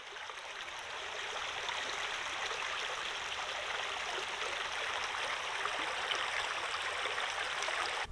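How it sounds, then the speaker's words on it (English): A small stream in the Peak District near Thor's Cave runs and burbles in a steady, even wash of water, faint and unbroken from start to finish with no voices. "There's something about the sound of running water that's just so calming"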